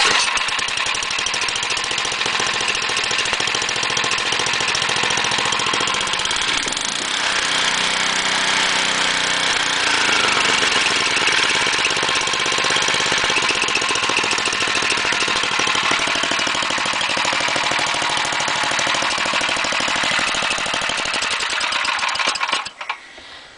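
A small gasoline engine, freshly cleaned carburetor and running on choke, drones steadily and loudly at close range for the whole stretch before cutting out at the end.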